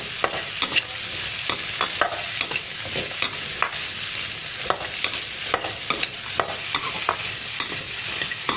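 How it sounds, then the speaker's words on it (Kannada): Okra and potatoes fry in about two tablespoons of oil for sambar, a steady close sizzle with frequent sharp scraping clicks of a spoon stirring the pan, no voices. "ಆಯಿಲ್ ಹಾಕೋಣ. ಇವಾಗ ಫ್ರೈ ಮಾಡೋಣ."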